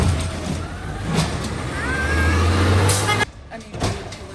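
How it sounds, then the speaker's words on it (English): Garbage truck arriving with a rumbling diesel engine, a squeal of brakes and a sharp hiss of air brakes near the end, close and fairly loud. "Garbage truck. And it's coming. Here it comes."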